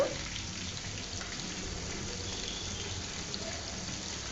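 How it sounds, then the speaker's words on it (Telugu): Chicken keema balls frying slowly in hot oil, turned until golden brown, giving a steady, soft, even sizzle that carries on unbroken with no voices over it. "గోల్డ్ కలర్ వచ్చేంత వరకు బ్రౌన్ కలర్ వచ్చేంత వరకు అయితే మనము ఫ్రై చేసుకోవాలి నిదానంగా తిప్పుకుంటూ ఇలా ఫ్రై అయితే చేసుకోవాలన్నమాట"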